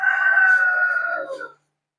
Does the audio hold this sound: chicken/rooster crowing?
yes